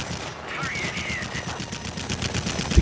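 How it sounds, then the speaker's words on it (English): The 30mm cannons of a J7W1 Shinden fighter fire in World of Warplanes as a rapid, even stream of heavy thuds over the engine drone. The burst runs for a few seconds and ends in a louder hit. "J7 does have great cannon firepower, and I do run the 30mm"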